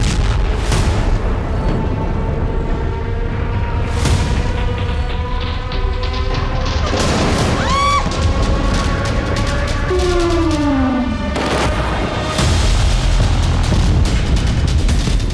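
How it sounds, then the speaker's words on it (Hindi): Heavy aerial bombing of Venezuelan military bases, airbases and naval ports by US Air Force aircraft: loud continuous roar with repeated booming blasts, a descending whistling tone and sharp bursts, dense and close throughout with no voices. "अमेरिकी सेना के टारगेट पर वेनेजुएला के प्रमुख मिलिट्री ठिकाने, एयरबेस और नेवल पोर्ट थे, जिन पर अमेरिकी एयरफोर्स ने आसमान से जबरदस्त बमबारी की"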